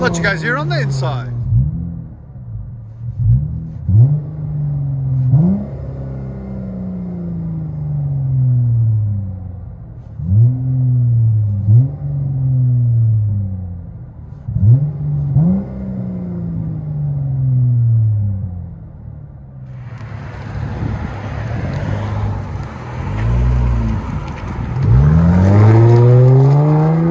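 A V6 car with its resonator deleted is heard from inside the cabin, revving in a series of deep rising pulls over a steady rumble, then a rougher, louder burst near the end.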